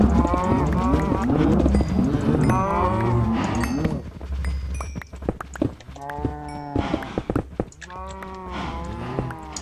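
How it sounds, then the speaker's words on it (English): Cattle in the game Minecraft moo repeatedly, several overlapping low calls close by, with a soft rhythmic bell-like clatter and footsteps in between. "Whoa, cows. Who keeps spawning cows?"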